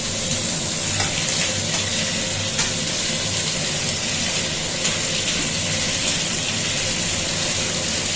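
Sea fish frying in a pan, giving a steady, even sizzle with a constant hiss that carries on unbroken throughout, close and fairly loud with no voices.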